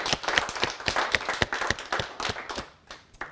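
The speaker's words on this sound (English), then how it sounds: "Let's do another round of applause for you." A small audience claps for a speaker at an evening talk, a brief burst of dense, fairly close applause that thins into scattered claps before fading out.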